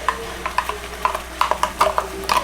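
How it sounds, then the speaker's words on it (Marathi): Ground masala paste frying in hot oil for an Agri-style home-cooked dish, giving a steady close sizzle with repeated soft clatters and stirring scrapes, and no voices. "तेल गरम झाल्यावरती स्नेहाने वाटण टाकलेलं आहे"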